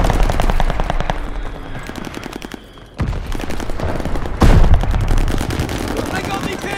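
Heavy automatic gunfire from a Charlton Automatic Rifle (NZ-41) in the Call of Duty Vanguard beta on PS5: dense, rapid bursts rattle almost nonstop, pause briefly, then resume with a sharp, louder blast and more sustained firing.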